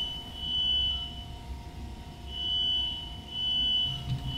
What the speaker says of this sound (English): Fire alarms are working. Yeah, that's one good thing, but now it won't stop, and it's incredibly noisy.